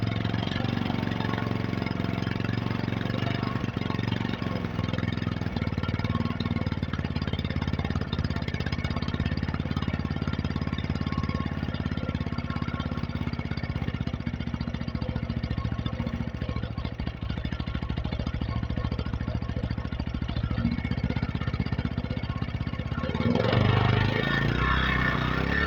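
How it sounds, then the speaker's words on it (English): A gasoline generator engine runs loud and steady with a dense mechanical drone, holding a constant speed before the tone shifts near the end. "increase the speed of the generator"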